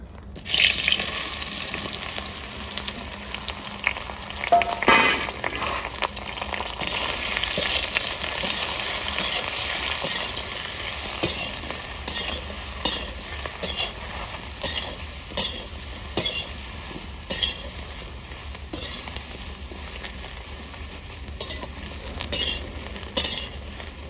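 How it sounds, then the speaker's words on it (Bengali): Eggplant fries in mustard oil in a village-style kitchen pan, with a bright continuous sizzle and a regular series of scraping, clinking stirs. "এবার বেগুনটা ভেজে নেবো।"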